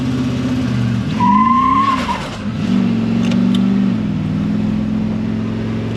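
A car with a factory Gen3 PCM does a standing launch using a launch control button, the engine held at a steady drone before a rising rev and a tire squeal, then settling into a loud sustained note.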